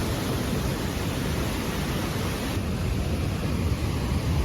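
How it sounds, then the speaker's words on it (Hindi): Rushing floodwater in a village during extreme weather, a steady, loud broadband roar of churning water that continues without a break from start to finish. "आप यहाँ पे देख सकते हो कि किस तरह से पानी जा रहा है"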